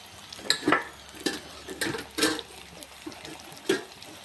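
Chili powder stirred into an eggplant tempering frying in a pan, with a series of soft scraping stirs about every half second over a low, steady sizzle, close and fairly quiet.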